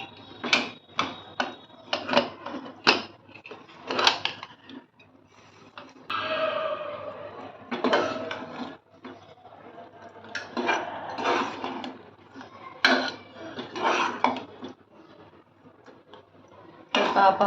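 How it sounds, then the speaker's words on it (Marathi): A pressure cooker's lid is opened after three whistles, with the steam already released, over black-eyed pea curry with potato. It comes as a series of close metallic clicks, clacks and scrapes separated by short pauses. "आता मी झाकण खोलून पाहते"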